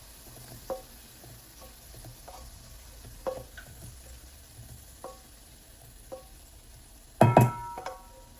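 Prawns and garlic frying in a pan, a low soft sizzle under scattered light clicks and taps of a utensil, with a louder clatter of stirring near the end and no voices.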